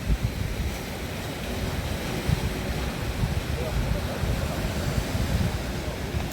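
Ocean waves beside a coastal road wash in continuously beneath gusty wind noise, with a faint voice briefly audible in the background.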